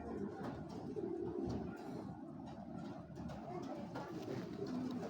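Racing pigeons coo in a loft, a soft continuous murmur of low throaty calls from several birds close by, with faint background noise throughout.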